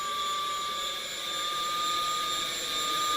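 An F-14 Tomcat jet engine in the RealFlight flight simulator gives off a steady, loud whine with a constant high tone, unbroken and close throughout, with no talking.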